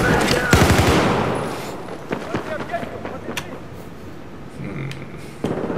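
Gunfire in the video game Battlefield 4 during a 5v5 match, a loud burst of rapid shots up front followed by scattered sharper cracks and pops at varying distances over a noisy background.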